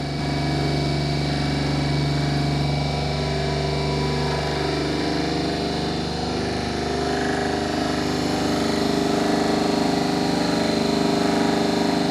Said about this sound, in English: we are going to vary the field rheostat of prime mover in order to achieve the rated speed, that is 1500 RPM of DC shunt generator